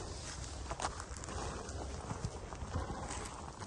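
A black horse walks past with steady, rhythmic clip-clop hoofbeats, fairly close but quiet, over outdoor background noise.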